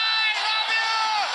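Cricket stadium crowd in Nepal cheering a batsman's fifty, a brief dense roar of many voices and whoops, loud and continuous throughout.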